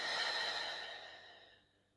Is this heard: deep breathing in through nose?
yes